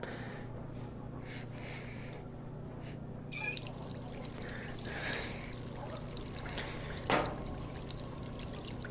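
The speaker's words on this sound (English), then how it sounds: "they all start with putting some water in the pot" Water poured into a soup pot in the video game Job Simulator, a steady bright splashing stream starting a few seconds in and running on, with a brief clatter near the end, over a constant low hum.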